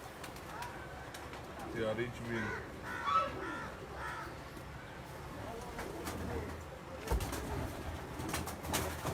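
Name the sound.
pigeons cooing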